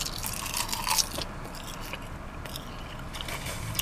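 Crisp salt and vinegar seaweed snacks being bitten and chewed close to the mic, with thin, crackly crunches and scraping bites at a quiet level, no talking.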